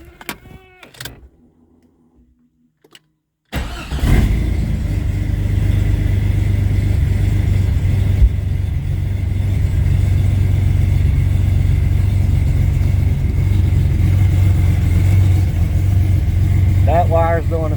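A supercharged Jeep XJ engine starts up and runs at a steady, loud idle for a long stretch after a quiet opening, with a voice talking briefly at the start.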